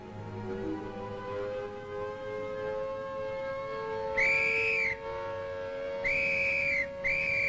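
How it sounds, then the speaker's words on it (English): A civil defense air raid siren during a simulated attack drill, heard as long, steady wailing tones, then three shrill blasts that rise sharply and cut off, all clear and fairly loud with no talk. "At the sound of the siren,"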